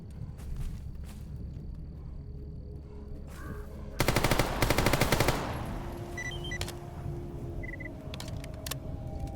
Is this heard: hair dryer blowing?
no